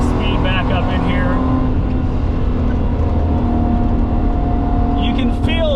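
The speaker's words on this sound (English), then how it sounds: "Let's get some speed back up in here." A 1985 Alfa Romeo Safari car accelerates across the desert, its engine droning loud and steady throughout, with the pitch shifting as it builds speed.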